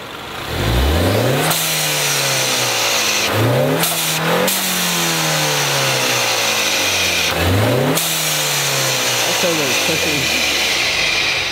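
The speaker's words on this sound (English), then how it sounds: "I'm gonna rev it up a little bit so y'all can" A 4-cylinder Ford Mustang engine revs repeatedly, climbing and dropping in pitch through several loud, close bursts over a steady idle.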